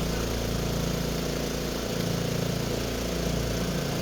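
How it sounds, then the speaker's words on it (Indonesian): Noisy machine engine drones steadily and loud while draining mud from a broken water pipe during repair work, a constant close rumble with no pauses. "Bunyi mesinnya bising banget. Ini lagi proses pengurasan ya."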